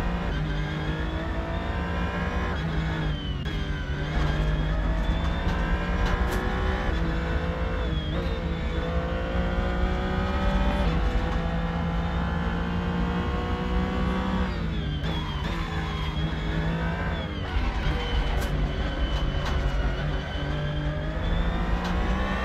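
A race car engine in Assetto Corsa on the Nordschleife screams continuously, its pitch climbing through gears and dropping briefly at shifts, with occasional tire squeal and no voices.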